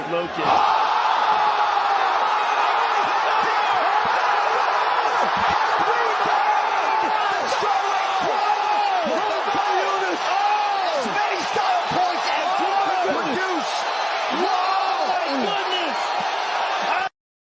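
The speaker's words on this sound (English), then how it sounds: "The crowd went crazy." Crowd erupting in cheers and shouts at a live event as an XRP court ruling is announced, a dense, loud, sustained roar of voices with whoops and scattered slaps running throughout.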